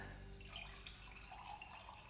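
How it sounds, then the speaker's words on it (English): Water flows and splashes steadily into a glass during a simple at-home science experiment, a continuous close pouring sound with no voices. "We're gonna pour some water in here."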